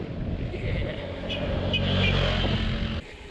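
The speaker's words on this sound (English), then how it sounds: "Got a couple of dudes approaching on four-wheelers." Four-wheelers riding past through sand, a steady engine drone that swells as they approach, peaks, then drops off sharply near the end, with no voices.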